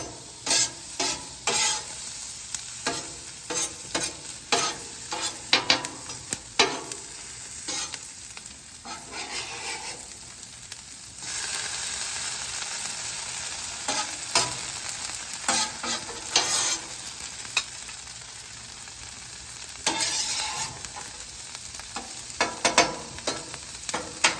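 Hash browns fry in butter on a Weber griddle insert over a gas grill, a steady close sizzle with frequent scraping and clattering of a spatula, rising to denser bursts at times, no voices.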